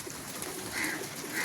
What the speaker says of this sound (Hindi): माशाल्लाह किंग कबूतर है और बड़ा मज़ा आया कबूतर देख के।